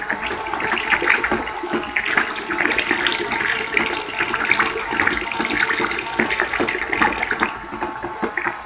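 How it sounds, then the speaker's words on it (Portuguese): Bleach poured into a bowl while making homemade lemon soap, a steady gurgling splash of liquid that runs continuously at close range with no talking. "aí agora vou colocar o cloro"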